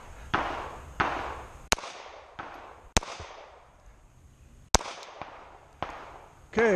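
A Glock 43 pistol with an ETS magazine fires shots at a target 15 yards away: a series of sharp, loud reports, several louder than the rest, each followed by a fading echo and spaced irregularly.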